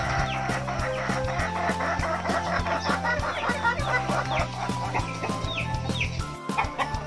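Chickens cluck continuously in a backyard coop, one of two pens of egg-laying hens kept on a small self-sufficiency home plot, with overlapping calls near and steady throughout and no talk.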